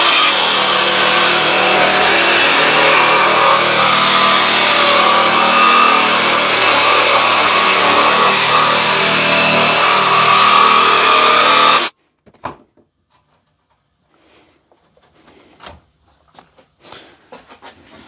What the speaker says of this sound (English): Right, let's cut a bit of a jigsaw-y sort of shape.